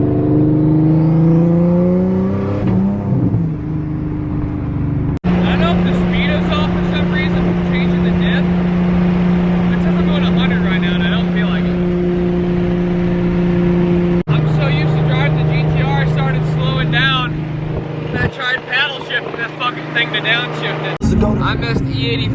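Single-turbo Nissan 370Z engine pulls hard with a steady drone, its turbo spooling and whooshing through repeated gear pulls; interior perspective, loud and continuous, with people talking over it.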